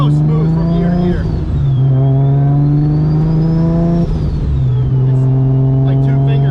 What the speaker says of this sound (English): I'm just cruising through some backcountry roads just to get a feel for this clutch.